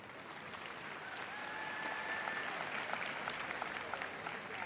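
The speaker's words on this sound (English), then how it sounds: "Please give him a big round of applause" A large arena audience at the Crufts dog show agility event gives a round of applause for a presentation, steady dense clapping that swells slightly midway and carries on evenly to the end.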